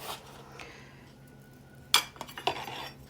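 A metal spoon clinks against glass jars while citric acid is spooned into ten jars for cucumber pickles, a couple of sharp close clinks and taps over a quiet kitchen background.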